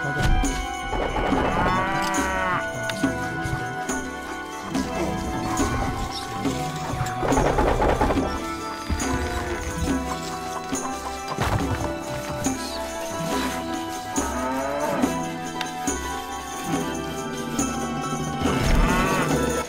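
Cattle lowing inside the medieval strategy game Stronghold Definitive Edition, the herd afflicted by a strange sickness; moos come and go beneath a dense, continuous layer of game music and effects.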